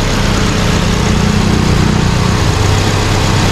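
A car engine idles steadily and loudly, a constant low rumble with no voices and no change in pitch.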